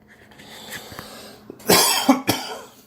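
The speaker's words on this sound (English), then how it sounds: "Excuse me for coughing." A few harsh coughs burst out loud and close after a quiet stretch, with faint breathing beforehand.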